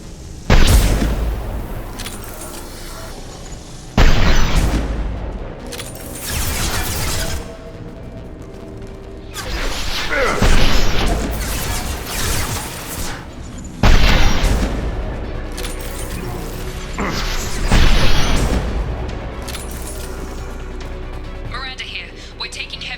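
Heavy gunfire and booming explosions in the video game Mass Effect 2, loud blasts recurring every few seconds over a continuous rumble of battle and mechanical noise, with voices speaking through the fighting.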